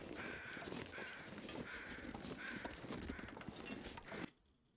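Repeated flyover crow caws in the video game The Long Dark, in regular succession, loud and close, before the sound cuts off abruptly near the end.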